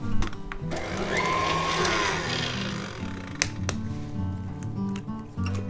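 An electric mixer whirs through gingersnap cookie batter as eggs are added, a loud, steady motor buzz close by with a few sharp knocks against the bowl.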